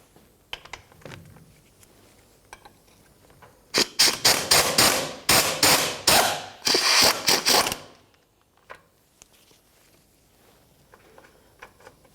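Rapid ratchet clicking in bursts as 17mm bolts and nuts come off near the fuel pump area of a 2004-2015 Nissan Titan, a loud run of quick strokes in the middle with quieter clicks and handling noises before and after.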